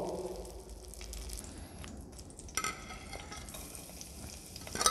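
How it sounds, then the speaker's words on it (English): Garlic, onion and mirepoix vegetables cooking in butter and oil in a pan, with a steady soft sizzle and scraping stirs throughout, a few sharper clinks near the end. "Butter and oil together, and then you can add garlic, onion, and some"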